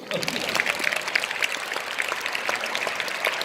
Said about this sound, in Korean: 박수 한번 쳐주십니까?